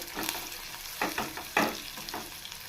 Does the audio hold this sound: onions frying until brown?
yes